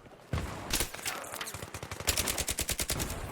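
Rapid machine gun fire from a shooter video game played with a Razer DeathAdder Chroma mouse, loud bursts of close shots building into a fast steady rattle toward the end.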